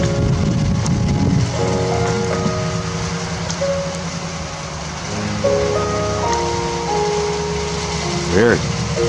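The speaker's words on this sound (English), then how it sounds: "It was an onslaught of hail about the size of BBs" BB-sized hail falls during a January hailstorm in San Diego, a dense, steady patter throughout. Voices talk over it, and a brief sharper burst stands out near the end.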